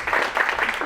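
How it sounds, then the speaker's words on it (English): Brief burst of crowd applause at a kickoff event, many hands clapping at once in a dense, even wash, fairly loud and close. "wrap up before everyone's hands get sore from so much clapping"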